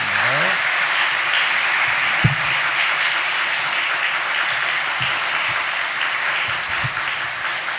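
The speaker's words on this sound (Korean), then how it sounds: "우리 오산 공동체가 보내드릴 수 있는 가장 큰 박수로 우리 목사님" A church congregation at a special dawn prayer service applauds to welcome the pastor, sustained loud clapping with brief low thumps and a faint voice underneath.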